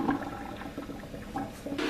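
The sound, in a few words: draining boiled watermelon rind water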